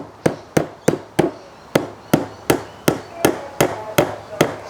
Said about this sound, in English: Now when we are putting our nails in